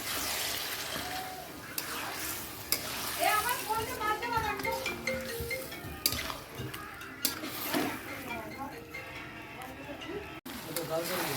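Marinated chicken added to a pan of cooked-down masala and stirred, with soft scraping and light sizzling while someone talks throughout.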